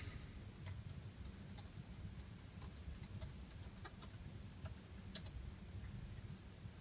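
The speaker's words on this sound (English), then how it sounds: "I'm gonna type its Wi-Fi key." A Wi-Fi key is typed on a keyboard while setting up a Phat Pocket handheld arcade, producing sparse, quiet key taps at an uneven pace over a low background hum.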